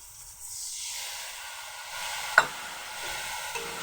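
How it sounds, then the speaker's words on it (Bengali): Turmeric, chilli powder, cumin paste and mustard paste fry with onion and tomato for a mixed vegetable dish, giving a soft continuous sizzle and hiss with a sharp stirring clink partway through. "ভালোভাবে মশলাটাকে কষিয়ে নেব"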